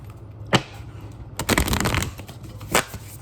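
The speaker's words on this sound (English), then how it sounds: "Ooh, that was not a good shuffle." A deck of playing cards is shuffled nearby in three separate riffling bursts. A short crisp one comes first, then a longer rustling riffle, then another quick snap, all against a low room hum.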